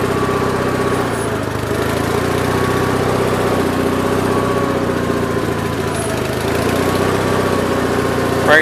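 The engine of a 1969 Gravely 432 tractor runs at a steady, even idle close by, with a low chugging drone and no change in pace. A faint clank comes near the end.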